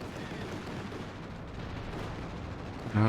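A strafing run in a multiplayer video game: a steady, dense rumble of sustained gunfire and blasts at moderate distance, ending in a sudden louder burst right at the close.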